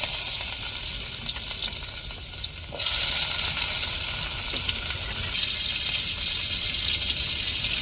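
Onion hits a hot pan and fries with a steady, fairly loud sizzle that surges and brightens partway through, then carries on evenly to the end.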